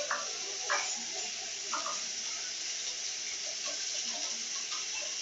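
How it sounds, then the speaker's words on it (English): Steady hiss of water spraying from a shower head, a continuous broadband rush with faint drips and clinks, fairly quiet and unbroken throughout. "I will now operate the shower and check for any leaks."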